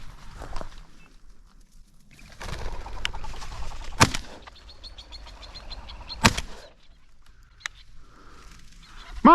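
Sharptail grouse and a covey of Hungarian partridges flush from chokecherry bushes on a Montana upland hunt, with bursts of whirring wingbeats, sharp bird calls and a few loud close clicks or thumps over a quiet outdoor background.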